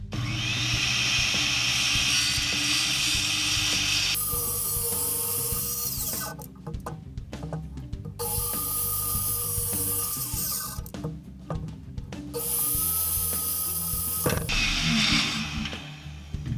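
A power saw cuts through a wooden post being fitted to a Simpson Strong-Tie post base, running loud and steady in three long passes broken by short pauses and clatter, with no talking.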